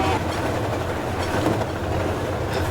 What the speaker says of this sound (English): An MSRX intermodal train comes right after, with the CP AC44 trailing second